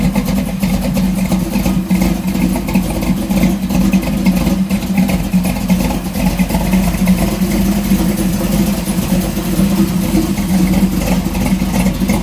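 A Dodge Dart fitted with a roll cage idles steadily while warming up on a cool day, a continuous low, even engine rumble held close and alone with no talk over it.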